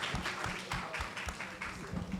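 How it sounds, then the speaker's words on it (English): A crowd applauds with dense, steady clapping, moderately loud, lasting a couple of seconds. "They deserve another round of applause."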